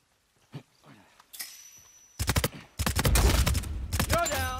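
Gunfire in Uncharted 4 multiplayer: after a few faint sounds, bursts of rapid close shots rattle out in quick strings, then a dense sustained volley with metallic pings.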